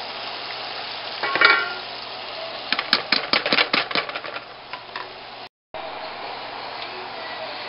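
Shallots dropped into melted butter in a saucepan, a bright sizzle that rises as they hit the pan, then crackling and stirring clatter before settling into a steady, quieter fry.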